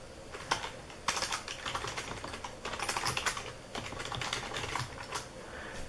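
Rapid, uneven keystrokes clatter on a computer keyboard with a mini PC setup, continuous and close, with short pauses between bursts of typing.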